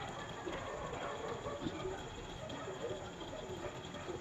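Sewing machine stitching a shalwar runs in a steady, continuous mechanical whirr with fine rapid clatter, close and even throughout with no pauses.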